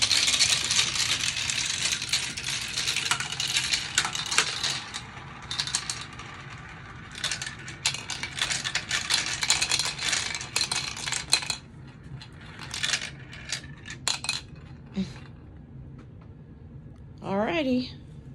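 Marbles race down a marble run, six fed into each pipe, making a dense clattering rattle with bursts and pauses, close by, with a few clicks and a voice near the end.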